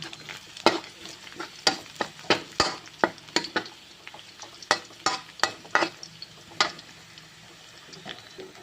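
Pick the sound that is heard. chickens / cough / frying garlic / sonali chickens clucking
frying garlic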